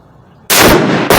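A Savage Axis .308 rifle fires a single loud, close shot at a range, a sudden sharp blast with a sustained roar after it and a second burst starting near the end.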